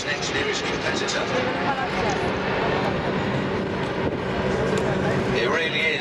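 Airbus A380-800 jet airliner engines give a steady broadband roar throughout, with a voice talking over the continuous engine noise.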